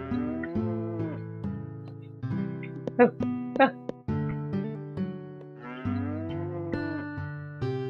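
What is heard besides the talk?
cows mooing in Harvest Moon: Hero of Leaf Valley video game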